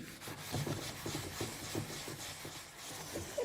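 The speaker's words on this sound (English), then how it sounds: "take this little abrasive sponge and do this on this part here, and do it gently" A small abrasive sponge rubs gently over furniture screws, producing faint, close scratchy strokes in a quick irregular rhythm.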